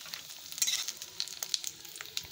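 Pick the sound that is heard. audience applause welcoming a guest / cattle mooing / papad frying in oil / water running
papad frying in oil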